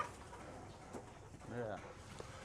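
Pigeons kept at a house alongside free-range chickens coo faintly and briefly, with one low, rolling coo standing out partway through, mixed with background voices.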